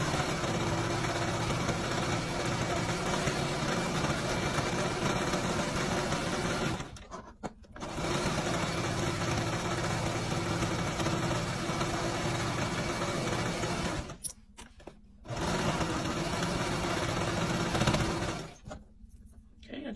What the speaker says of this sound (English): we are just going to sew all around this thing